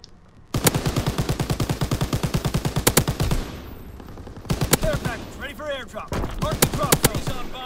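A mounted machine gun turret fires in the Call of Duty WW2 video game, loud rapid evenly spaced bursts running for several seconds, a short pause with softer game sounds, then more long bursts of automatic fire.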